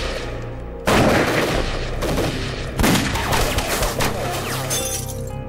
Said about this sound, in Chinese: 11点钟方向开火！